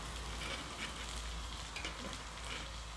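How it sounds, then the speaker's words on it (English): Onions frying in a pan at an outdoor camp on a cold, rainy thunderstorm day, a soft, steady sizzle with light crackles and no one speaking. "what I'm doing here is frying up some onions"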